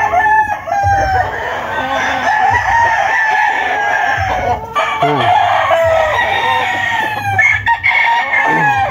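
A flock of young roosters, stags, crowing on a farm, several overlapping cock-a-doodle-doos near and farther off, with clucking in between and continuous outdoor background.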